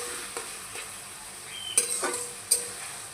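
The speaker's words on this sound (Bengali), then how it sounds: "আমি এর মধ্যে দিয়ে দিচ্ছি পেঁয়াজ কুচি, আস্ত কাঁচা লঙ্কা আর রসুন। এরপর এগুলোকে নেড়ে হালকা একটু ভেজে নেব।" Chopped onion, whole green chillies and garlic fry in oil while being stirred, a soft steady sizzle with a few sharp scrapes and clinks of the spatula against the pan, close and fairly quiet.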